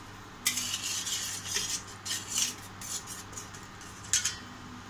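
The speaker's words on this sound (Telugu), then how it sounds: "బాగా తిప్పేసుకుంటాం" A spoon stirs chicken soup in a pot on a stove over high flame. Intermittent metallic scrapes and clinks come in irregular bursts over a low steady hum, with no speech.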